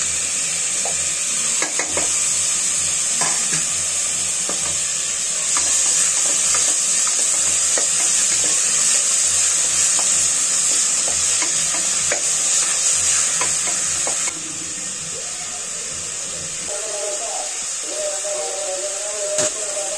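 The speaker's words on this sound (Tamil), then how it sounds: "இந்த வெங்காயத்தோடு நல்லா ஃப்ரை ஆகிற மாதிரி வதக்கிட்டு" Steady sizzling of onions and two tomatoes frying in a pan for sambar, with occasional stirring clinks and scrapes, close and continuous throughout.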